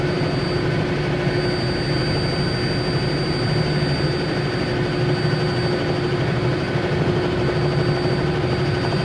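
Robinson R66-T turbine helicopter in flight near Lancaster, heard from inside the cabin as a steady, loud drone with a low rotor throb and a sustained whine, constant throughout with no voices.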